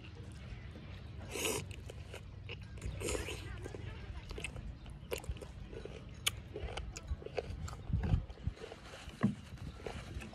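Close, wet chewing of fresh crunchy conch with occasional crunches and bites, scattered irregularly through a stretch of quiet background noise.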